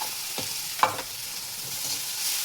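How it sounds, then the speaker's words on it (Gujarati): Crushed ginger, chilli and garlic hit hot oil with a broad, steady sizzle, with a couple of quick stirring scrapes early on, nearby and with no one speaking. "આપણું તેલ આવી ગયું છે, એમાં આદુ, મરચાં ને લસણ આપણે ખાંડેલા નાખી દઈએ."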